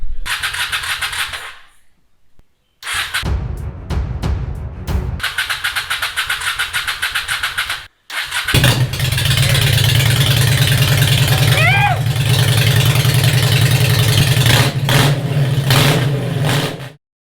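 A Honda Shadow VLX motorcycle engine, part of a budget bobber build, cranks after short pauses, catches and settles into a loud, steady, throbbing idle that runs close by for most of the clip, with a brief higher rise near the middle.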